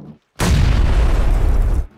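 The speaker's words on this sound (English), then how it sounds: "Grenade. Get down, get down, get down." A grenade blows up in an online battle-royale style shooter game as a single loud, close boom that roars for about a second and a half before cutting off.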